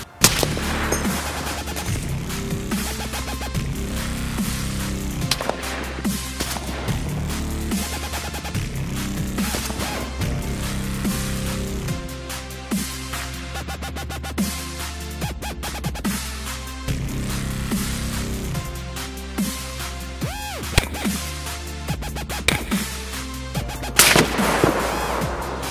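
Rapid, continuous suppressed gunfire from a Barrett M82A1 rifle, with dense repeated heavy shots and booming reports filling the whole stretch at a loud, even level, with no talking.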